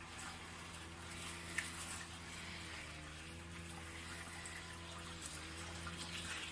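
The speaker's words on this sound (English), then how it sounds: "I'm going to deliver the water directly to the root." Water runs steadily onto the roots of plants in an allotment garden nearby, a soft continuous splashing hiss over a low background hum, with no talking.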